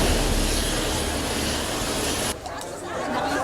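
A military helicopter's engine and rotor give a loud, steady, broadband roar at an airport wrecked by disaster, close and unbroken, with brief faint voices under it.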